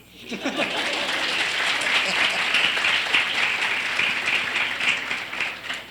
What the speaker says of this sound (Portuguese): Então, aplauso.